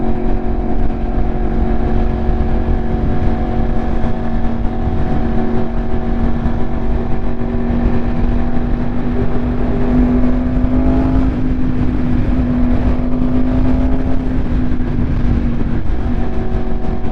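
A 2025 Yamaha R1 motorcycle engine revs loud and close under throttle, a steady high-pitched scream that rises and swells through the middle before easing back, with no talk over it.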